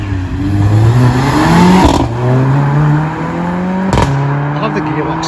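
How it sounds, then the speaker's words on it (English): At a car meet, a revving car engine climbs in pitch, drops sharply on each gear change and climbs again, with two distinct shift breaks; loud and nearby, with people talking underneath. "I love the gearbox sound when they change."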